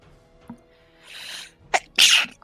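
A person sneezes once at close range: a short intake of breath and a rising wheeze give way to a sharp, loud burst at the end.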